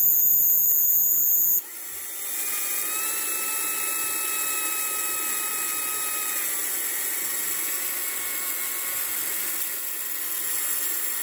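A 6 volt DC motor taken from liquid nitrogen runs with arcing inside, giving a thin, high, steady whine close by that shifts in pitch partway through.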